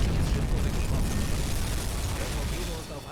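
A torpedo striking a ship's stern in the submarine game UBOAT, a loud, dense rumbling explosion that fills the clip and slowly fades toward the end.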